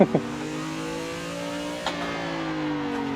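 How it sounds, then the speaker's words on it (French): A car engine in a driving simulator game revs and holds a steady drone as the car drifts, with a brief blip at the start and another near the end, close and alone. "quand la voiture commence à dériver, eh bien on peut mettre un peu de gaz pour l'aider à partir"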